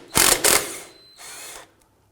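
Power tool loosening a 15 mm nut on the front knuckle assembly of a 2008-2011 Ford Focus: two loud close bursts of whirring, then a shorter, quieter spin-down, alone without talk.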